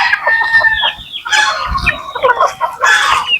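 Native chickens cluck and crow loudly and close by, several calls overlapping in bursts as they wait to be fed on a rainy morning.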